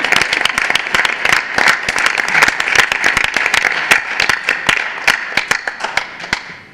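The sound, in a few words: audience applause at school board meeting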